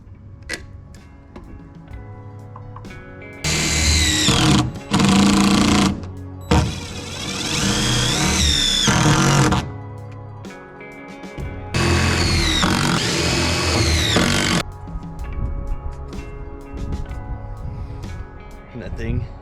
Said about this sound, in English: the force of screwing the Z bracket down pushed out all the silicone